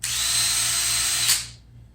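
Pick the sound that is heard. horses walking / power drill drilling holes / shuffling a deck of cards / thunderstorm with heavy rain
power drill drilling holes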